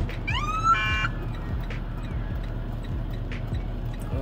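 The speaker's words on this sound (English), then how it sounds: "why the hell you just need to turn the siren on?" Police car siren switched on during a roadside traffic stop of a commercial truck in Tennessee, a brief rising electronic whoop heard in the first second over a steady engine rumble, followed by idling noise and faint clicks.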